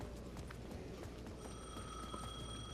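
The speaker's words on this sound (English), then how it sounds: "The payphone at the edge of the plaza was ringing again." A payphone in Alan Wake 2 rings with a steady electronic tone over a dense, busy ambient background, fairly quiet and continuous, with no talking.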